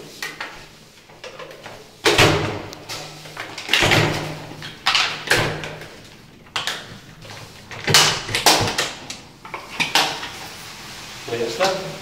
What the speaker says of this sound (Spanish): con una mano en el pomo vamos jugando la orilla de la puerta y con la otra empujando el plástico para que entre